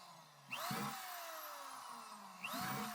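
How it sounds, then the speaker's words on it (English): A power drill whines up twice, each run winding down in pitch as it bores holes through plastic buckets, close and steady with no talking. "We start our drilling, and we have success."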